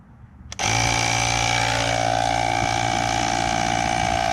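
An air pump switches on abruptly and runs at a loud, steady, buzzing drone while inflating a Husqvarna GTH200 lawn tractor tire, continuous and close.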